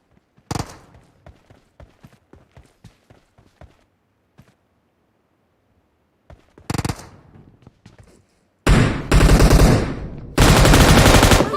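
Golden machine gun in PUBG Mobile: scattered sharp shots and footsteps early, then two long, loud sustained bursts of rapid automatic fire near the end.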